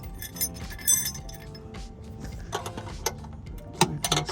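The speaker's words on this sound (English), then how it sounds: "Get a wrench." Metal wrench clinks and jangles during an oil change on a Corvette C4, a few sharp clattering hits scattered through the stretch, closest and loudest near the end, with no talk.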